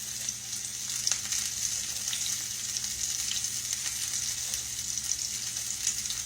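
Steady, close sizzling of food frying in a pan on a home stove over reduced heat, a continuous crackling hiss with faint scattered pops and no talking.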